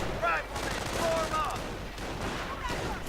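Rifles and a sniper firing in a video game battle between American and German forces, rapid overlapping shots and bursts at mid distance, with a voice talking over the gunfire.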